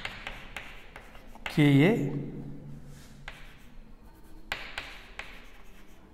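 A pen scratches out a chemistry equation by hand in short, close strokes that pause and restart, with a brief spoken sound partway through.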